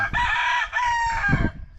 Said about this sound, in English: these are some of our chickens. We got some Icelandics.